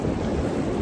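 Wind gusts across a mountain trail in sunshine, a steady broadband rush buffeting the microphone, loud and close with no pause and no voices.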